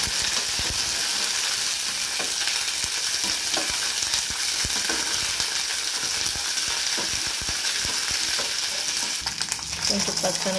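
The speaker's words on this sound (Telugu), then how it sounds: "ఇలా కొంచెం పల్లీలు వేపుకోవాలి" Peanuts frying in a pan as the first step of a green tomato chutney, giving a steady close sizzle with faint scraping from stirring throughout.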